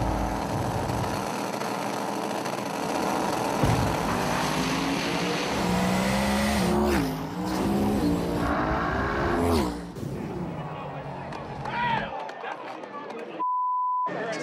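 A 1963 twin-turbo Chevy II drag car roars and accelerates through rising engine tones, with crowd noise and people talking over it, before cutting off near the end.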